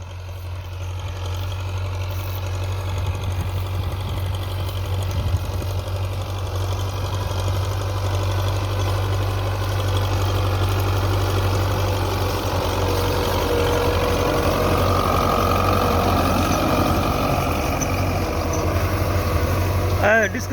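A Belarus 510 tractor's diesel engine runs steadily at a low, rumbling idle, close and constant throughout, with someone talking over it.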